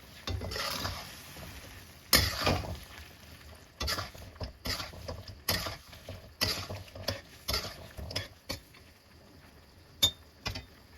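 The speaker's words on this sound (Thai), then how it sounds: "เดี๋ยวเราจะใส่น้ำตาลนะคะ แล้วก็คนให้เขาเข้ากันค่ะ" Stirring sugar into a pot of braised chicken feet in soy-based red braising liquid, a spoon scraping and clinking against the pot in repeated irregular strokes over a soft sizzle, fairly close with no talking.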